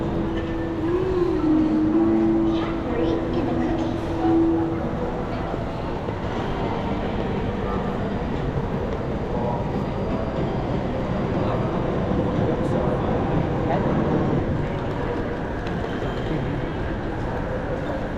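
Inside the large KL Sentral railway station in Kuala Lumpur, a continuous wash of rumbling train noise fills the space, with a brief tonal whine near the start and a faint murmur of crowd voices in the background.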